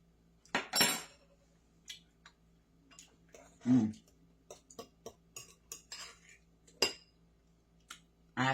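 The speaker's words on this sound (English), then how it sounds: "Let me get a spoon and give it a taste." A spoon clinks and taps against a bowl of tartar sauce in a kitchen, a scattered series of sharp, close metallic ticks and clatters with quiet gaps between them.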